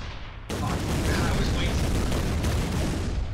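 Sudden booming tank shot and explosion in the Shell Shock Live video game, a loud, sustained roaring rumble that fills the clip, with voices talking underneath.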